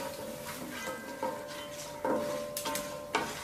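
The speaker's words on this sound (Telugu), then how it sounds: "ఈ పోపంతటిని కూడా చక్కగా వేయించుకోవాలి" Tempering of peanuts, chana dal, urad dal, mustard seeds and cumin fries in oil, with a low sizzle under a few distinct clinks of a spoon against the pan.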